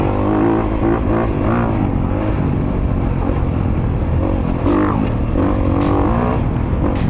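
Honda CRF250RX dirt bike engine revving hard and steadily while the rider holds a wheelie, a loud, continuous buzzing roar close by with repeated rises and dips in pitch.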